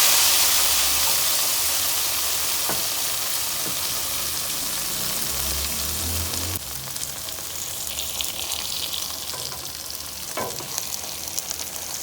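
Hot baghar tempering of ground chillies hits a pot of kadhi for pakora kadhi, giving a loud, steady sizzle and frying hiss with a sharp burst midway, no voices over it.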